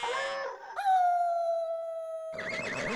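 A dog gives a long, drawn-out howl that slides slowly downward in pitch, preceded by a short whimper and followed by a wavering, shaky whine, close and clear with no talking.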